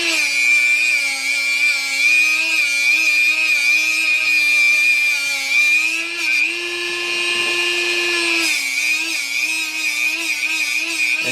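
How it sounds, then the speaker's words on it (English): A Dremel rotary tool fitted with a flap wheel sands metal, giving a loud, high steady whine whose pitch dips briefly as the wheel bites into the work, then rises again. "we've got a flap wheel on the Dremel. We're going to come in from this side here."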